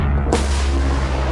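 A single heavy airstrike explosion in a wargame, with one sharp blast followed by a sustained low rumbling roar that fills the rest of the moment.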